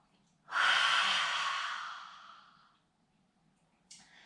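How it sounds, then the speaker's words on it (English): A single long, deep breath during a yoga exercise, an audible exhale that swells loud and fades over about two seconds, followed by a short breath at the end, close and clear with no talking. "Inhale, exhale. One more time. Inhale, exhale."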